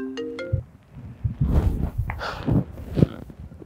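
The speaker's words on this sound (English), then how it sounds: "Your phone is ringing." A phone ringtone plays a short melodic run of clear tones at the start, then cuts off and gives way to shuffling, footsteps and room rustle.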